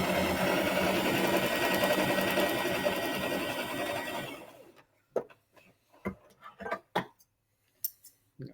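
A sewing machine runs in a steady continuous whir while stitching half square triangles for a quilt, then stops and gives way to several sharp clicks and snips.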